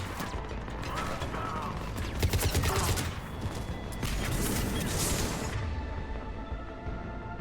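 Rapid assault rifle fire from the video game Mass Effect 3 (Legendary Edition), dense rattling bursts with clanking mechanical noise, loud and sustained before easing off near the end.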